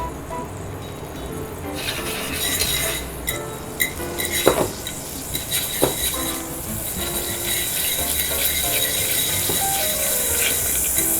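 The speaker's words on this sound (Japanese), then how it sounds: "少し炒まってきたら先ほどのズッキーニを加えていきます。 はい、そしたらゆっくりと炒めていきますね。" An anchovy fillet and zucchini sautéing in olive oil in a pan, a steady close hiss and crackle of frying with occasional clinks of utensils against the pan and no talking.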